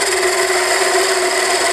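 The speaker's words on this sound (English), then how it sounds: "take some light cuts with my D-Way parting tool" A lathe spins wood at 1800 RPM while a D-Way parting tool takes light cuts, giving a steady, dense whirring hiss with a sustained tonal hum, loud and unbroken throughout.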